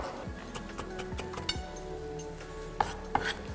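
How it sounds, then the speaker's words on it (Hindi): Potatoes chopped finely with a knife on a board, a few soft irregular cuts and a couple of sharper knocks over a steady tonal hum in the background. "बिल्कुल बारीक काटिएगा आलू को।"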